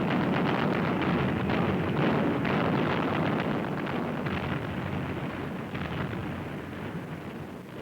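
Heavy guns on an Iowa-class battleship firing during the Korean War, heard as a continuous, loud roar of blast and rumble that fills the whole stretch and eases slightly toward the end, with no talk.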